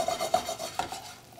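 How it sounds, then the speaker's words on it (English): Onions sizzle in a hot pan with a soft steady hiss, broken by a few scraping stirs of a utensil. "They go in immediately, and you can start to hear that sizzle"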